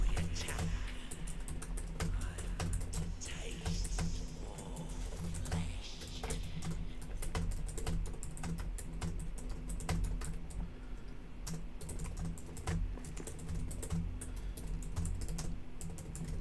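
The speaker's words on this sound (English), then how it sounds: "I hear Kitty furiously typing in the back" Rapid, steady typing on a computer keyboard clatters continuously in the background of a room during a live game stream, with dense key taps throughout and no break.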